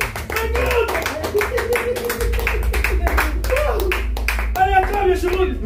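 A church congregation in Lyon claps steadily and rhythmically, dense clapping running throughout with voices singing and talking over it.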